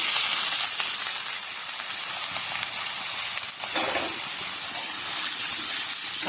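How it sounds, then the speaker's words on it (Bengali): Potatoes frying in hot white oil in a kadai, a dense steady sizzle with crackling bursts and a brief louder flare midway, close and continuous without talk. "তেল গরম হয়ে গেছে, প্রথমে আমি আলুটাকে একটু ভেজে নেব"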